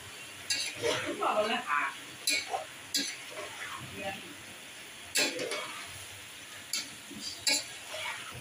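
Stirring chicken and Chinese vegetables in a pan while capsicum goes in, with scattered scrapes, clinks of utensil on metal and a soft sizzle beneath; someone speaks throughout.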